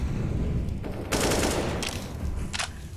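Rapid automatic gunfire spray in a Counter-Strike match near the B bomb site, several dense bursts of rattling shots over continuous game noise, loud and close with a sustained volley in the middle and shorter bursts after.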